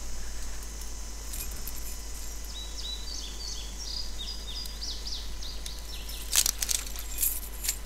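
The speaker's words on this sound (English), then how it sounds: "God damn. Get those keys." Keys jangle as they are picked up in The Walking Dead video game, a light metallic tinkling that comes in a quiet run over a steady low hum and then a brighter clink near the end.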